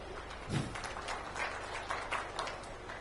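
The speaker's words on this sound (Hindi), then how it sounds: "चाहूंगा जोरदार तालियां ममता चंद्राकर जी के सम्मान में" Audience clapping at a district public dialogue event in Kawardha, Chhattisgarh, honouring an on-stage guest; a fairly steady wash of applause over roughly three seconds with a brief louder burst near the start.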